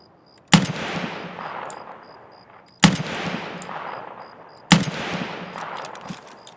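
Three loud, separate gunshots in the shooter game Escape from Tarkov, about two seconds apart, each a sharp crack trailing into a long echoing decay, with no talking.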